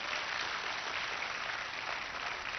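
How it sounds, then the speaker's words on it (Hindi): An audience at a Sanskrit gurukulam gathering applauds in a steady, even wash of clapping that is fairly quiet and continuous throughout, with no voices over it. "ये एक बार जोरदार ताली बजाओ अपने लिए।"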